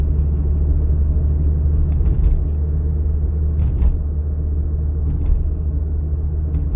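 A car cruising at 40 km/h in third gear during a driving test, a steady low engine and road rumble from inside the cabin, constant and fairly loud with a few faint bumps.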